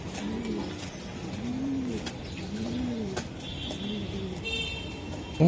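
Racing pigeons at a Bangladeshi club loft coo in a steady, repeated rhythm of soft, low, rounded calls, several birds overlapping close by, with faint chirps and a light background hum.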